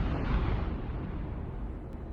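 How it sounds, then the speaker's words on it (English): A loud explosion in the video game Wuthering Waves, a sustained deep rumbling blast that stays heavy for about two seconds with no one talking over it. "What caused the explosion?"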